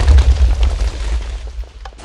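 A heavy boom from a TNT cannon in the Minecraft video game, one deep explosion whose rumble rolls out and fades over a couple of seconds, loud and close.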